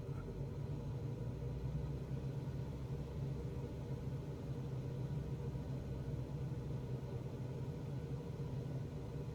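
Simulated Cessna 172 piston engine from Microsoft Flight Simulator 2020, heard as a steady, continuous low droning rumble throughout, heard alone with no talk.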